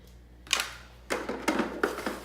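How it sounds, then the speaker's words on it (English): Someone picks through a pile of makeup items close by, making a few short clattering, clicking bursts separated by quiet pauses, with no voices. "If you hear the noise, it's just I have like my makeup stuff right there"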